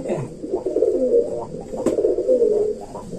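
A pigeon coos close by during summer bathing care, a few low throaty rolling coos with a brief sharp click in the middle.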